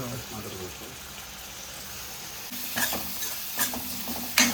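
Finely chopped tomatoes frying in a pan for a mushroom curry, a soft continuous sizzle that grows busier later, broken by a few sharp scrapes and stirring clatters of a utensil against the pan.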